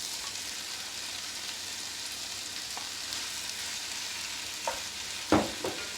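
Pork sizzles in a hot pot with cooked-down onions for a roasted pork ragu, a steady frying hiss joined near the end by a few sharp clinks and scrapes.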